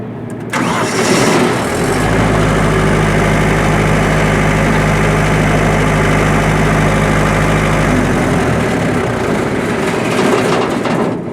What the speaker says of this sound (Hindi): अब ये इंजन 5 सेकंड बाद स्टार्ट होगा, ये आप देख सकते हैं।